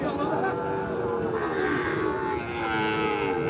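Cattle moo in drawn-out calls over the constant din of a busy livestock market where Sahiwal bull calves are traded. The bellowing stands out above crowd noise.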